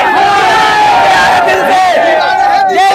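A large crowd of supporters at an election rally shouts and cheers loudly and continuously, with overlapping voices forming a dense roar.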